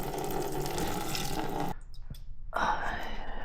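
Coolant gushing and splashing out of a Kawasaki ZX-12R motorcycle during a coolant change, a loud steady spray that cuts out briefly and then resumes, with faint voices nearby.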